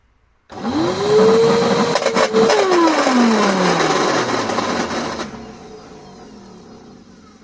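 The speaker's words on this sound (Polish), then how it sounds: "Dzisiaj taki trochę inny odcinek, recykling odkurzacza. Ciekawe czy on działa." An old vacuum cleaner is switched on during a test before being dismantled: its motor starts abruptly, whines up to a loud steady drone, then cuts off and spins down to quiet, with no talk.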